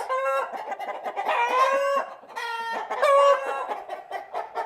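Several roosters cluck and make drawn-out crowing calls close by, overlapping in a busy, repeated chorus with no talking.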